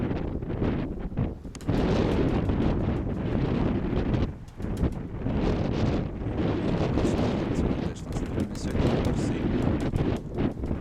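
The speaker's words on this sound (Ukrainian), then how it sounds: "вітер дуже класний сьогодні" Strong wind roars and gusts across the microphone throughout, loud and rumbling, with brief lulls and a voice faintly audible beneath.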